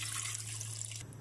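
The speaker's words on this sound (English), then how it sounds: "you add water," Water pouring from a tap into a tomato fish stew sauce seasoned with onions and stock cube, a steady close splashing stream that stops abruptly near the end, with no talking.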